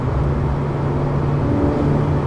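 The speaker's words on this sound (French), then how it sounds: "Il y a un petit peu de circulation" Steady road rumble from inside a Mini Nowack N260S driving on a German autobahn in light traffic, a constant loud drone with a low engine hum throughout.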